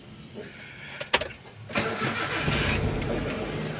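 Honda Civic engine cranking and starting after sitting unused for a long time: a few sharp clicks and a short crank, then it catches and settles into a steady, rough idle close by.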